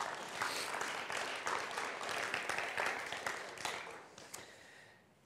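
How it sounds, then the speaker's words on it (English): Applause from a church audience after a talk: a steady wash of many hands clapping at moderate distance, thinning out and fading away toward the end. "I think we should applaud for that."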